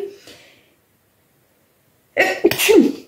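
A single sneeze bursts out loud and close after a moment of silence, preceded by a faint breath.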